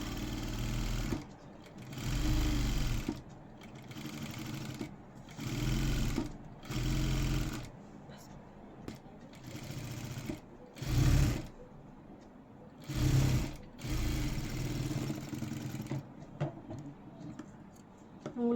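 A sewing machine stitches a blouse in several bursts of steady, fast whirring, each lasting one to three seconds, separated by short pauses. No one speaks.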